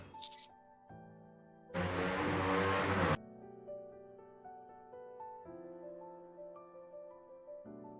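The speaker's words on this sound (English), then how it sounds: "that's one noisy motorcycle" A noisy motorcycle engine in the Goddess of Victory: NIKKE video game gives one loud roaring burst of about a second and a half, set among quieter tonal game music.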